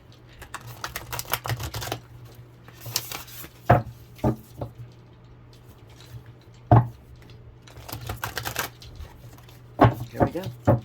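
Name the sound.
tarot cards being shuffled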